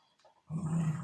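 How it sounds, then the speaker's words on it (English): A dog growls at a cat indoors, a low continuous rumble that starts abruptly and holds steady for about half a second, fairly close and moderately loud, with no talking over it. "Sorry, my dog is growling at the cat."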